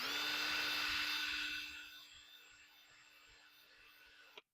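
A power drill with a dull bit whines at a steady pitch for about two seconds, then spins down and fades into a quiet hum before a short click ends it.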